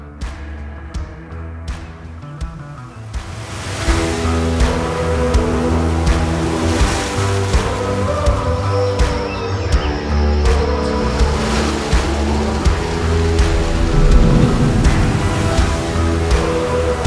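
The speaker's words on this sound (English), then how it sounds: "Waterfall is amazing" A steady, broad rush of falling water roars continuously, growing a bit louder partway through, with no voices.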